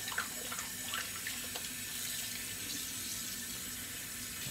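A shaving brush is rinsed under a running tap, a steady splashing stream of water with faint dribbles, fairly quiet and close, with no voices.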